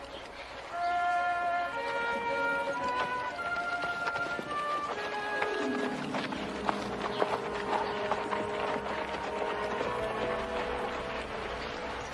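Horses walking over rocky mountain ground, hooves clip-clopping in a loose irregular rhythm beneath a musical score with sustained tones, fairly faint and mid-distance.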